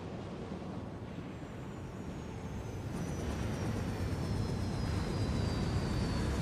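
Airship flying through turbulence in Final Fantasy XIV, a steady, loud engine roar and rushing wind that swells slightly partway through, with no talk.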